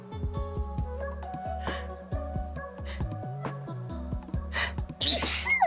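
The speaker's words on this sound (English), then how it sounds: "Also, I'm gonna sneeze." A single close, loud sneeze bursts out near the end, over steady, bright video game music from Cult of the Lamb.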